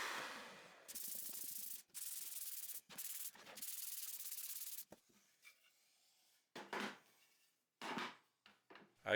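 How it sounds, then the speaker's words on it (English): An electric sander working over 2x4 wood, a close, loud, rough whirring in several long passes with short breaks, then quieter intermittent rubbing strokes. "Before staining, I sand them with the electric sander,"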